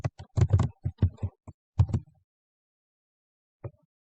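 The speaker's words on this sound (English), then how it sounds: "And I'm going to type my favorite song." A computer keyboard is typed on during a Python coding session: a quick burst of close, crisp keystrokes for about two seconds, then silence and one final tap.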